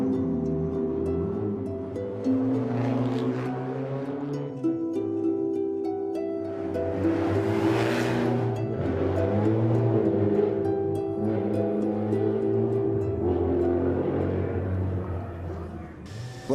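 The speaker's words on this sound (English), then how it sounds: "the streets come alive to the sights and sounds of World Rally cars" World Rally cars drive through the streets of Monte Carlo, their engines rumbling and revving with a steady roar that swells and fades as they pass, close and loud, with a busy crowd and street noise around them.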